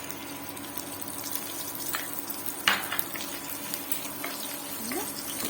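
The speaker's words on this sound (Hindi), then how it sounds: "मु टिके जीरा पके देची" Cumin seeds sizzle and crackle steadily in hot oil while vegetable rice is being made, a continuous close frying hiss with occasional small pops and no talking.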